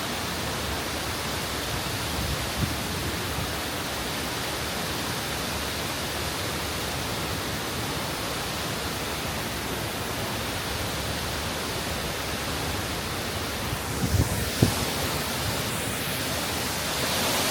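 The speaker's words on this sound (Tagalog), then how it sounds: "Sobrang taas ng falls." A steady, dense roar of a very tall waterfall, Dodiongan Falls in Iligan City, Philippines, loud and unbroken throughout, with no voices.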